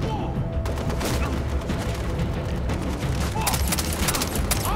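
Far Cry 3 video game gunfire rattles in dense, continuous bursts, loud and constant over a busy battle din with occasional booming shots.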